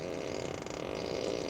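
A whoopee cushion fart sound effect plays inside a 2024 Tesla Model 3 Performance. It is one steady, raspy, buzzing blast lasting over a second, heard alone and fairly loud.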